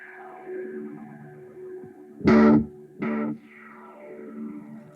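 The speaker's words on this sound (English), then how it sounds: "if I turn on my delay, you'll hear me hit the note, and then you'll hear the note to the right" A Fender Telecaster played through a BOSS GT amp model of a Fender Twin rings out with sustained notes, then a sharp struck note followed by a clear delayed repeat, the echo trailing off into lingering tones.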